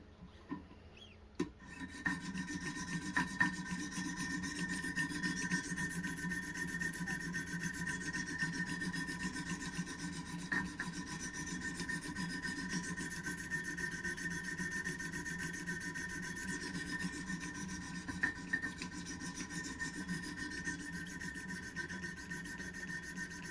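A knife blade is stroked against sharpening stones on a Wicked Edge Pro-Pack III guided sharpener, working up through grits such as 400 and 600. The result is a steady, continuous rasping and rubbing close by, with a few sharper scrapes and no talking.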